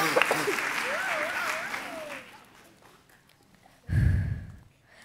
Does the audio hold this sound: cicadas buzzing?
no